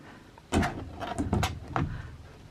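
Several quick wooden knocks and clatters as the doors of a newly assembled yarn storage cabinet are opened and shut, close by in a quiet room.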